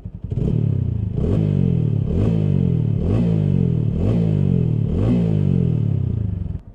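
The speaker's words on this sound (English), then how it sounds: "Now this is the exhaust sound." A TVS Apache RTR 200 4V motorcycle exhaust revving up close, about six sharp throttle blips in a steady rhythm, each rising in pitch then dropping back to a rumbling idle.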